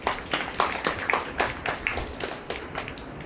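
A church congregation claps along in praise, a steady run of quick, even hand claps close by with no talk over them.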